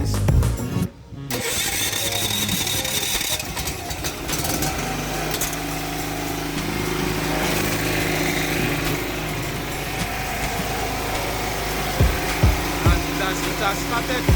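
A standby generator cranks and starts by itself when utility power is cut on an automatic changeover, settling into a steady running drone with some knocks and voices nearby.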